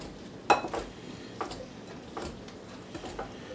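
A Mix and Chop kitchen tool works in a crock pot, making several sharp clinks and scraping knocks against the pot at irregular intervals, close and fairly quiet.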